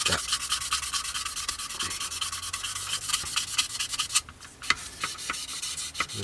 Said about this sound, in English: So just light pressure on the sander, letting the sander do the work.